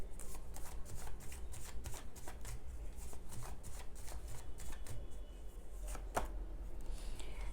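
Tarot cards are shuffled by hand in quick, repeated riffling bursts of papery slaps and flutters. The shuffling is close and fairly quiet, with no talking.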